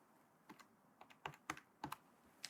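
Calculator buttons pressed one after another in irregular, crisp clicks, some coming in quick pairs, close and fairly quiet with no talking.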